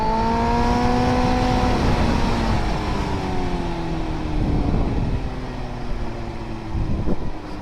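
Motorcycle riding, a steady engine drone with slowly falling pitch as the bike eases off, wind rush underneath and a brief rise in revs near the end.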